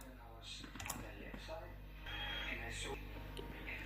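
Light clicking of computer keyboard keys being typed in short bursts, quiet and close, under a voice talking steadily throughout.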